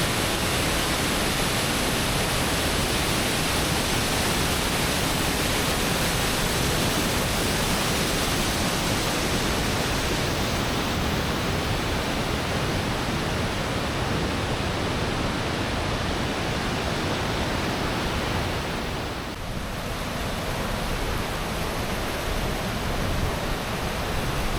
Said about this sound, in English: I don't know if you can see that little bitty waterfalls above this straight up big waterfall.